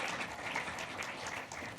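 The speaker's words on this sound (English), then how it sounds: "give them a round of applause as a welcome" Audience applause welcomes guests at a talk, a soft, even wash of many hands clapping at a distance, continuous and fairly faint throughout.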